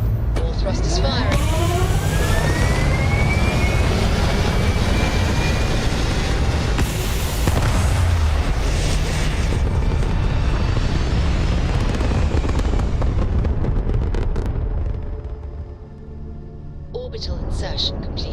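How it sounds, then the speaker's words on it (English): Spaceship thrusters fire in the video game Starfield, a dense loud roar with sweeping tones that holds steady, then fades and resurges near the end; a voice speaks over it. "All thrusters firing."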